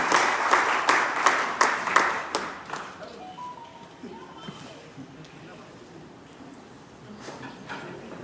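Audience at a COVID warrior award ceremony breaks into a brisk burst of clapping, loud at first and fading away after a few seconds, with scattered claps and murmuring voices continuing faintly afterward.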